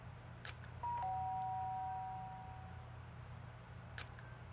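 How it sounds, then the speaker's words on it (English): A doorbell in the video game Danganronpa chimes once with a clear, sharp tone that rings out and slowly fades over a low steady hum. "The sharp sound of the doorbell pierced my sleepy haze and pulled me back to the real world."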